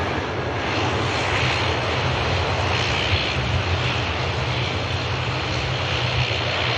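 A Dash 8 turboprop airliner at Manchester Airport, its engines giving a loud, steady broadband roar with a low rumble that holds evenly throughout, close by and with no voices.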